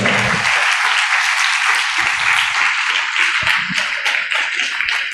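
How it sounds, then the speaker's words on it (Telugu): A crowd claps loudly and continuously to welcome a priest, Father K. Jeevan Kumar, at a church celebration with healing prayers and Mass, a dense, even wash of applause throughout. "చప్పట్లతో ఆహ్వానించుకుందాం"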